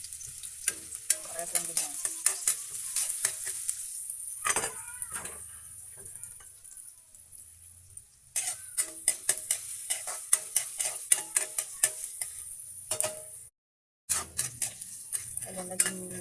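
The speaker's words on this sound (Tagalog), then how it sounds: "magigisa na po tayo. Lagyan na natin yung ating bawang. Init na yung ating mantika." Garlic sizzling and frying in hot oil in a pan for ginisang pechay, with steady crackle and frequent stirring clinks. The sizzle breaks off briefly twice, and someone speaks once.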